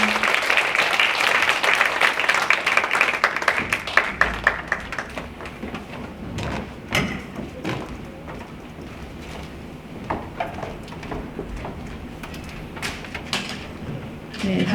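An audience at a Korean church blessing ceremony applauds loudly for a few seconds, then the clapping thins into scattered claps and quiet room noise, with faint murmuring.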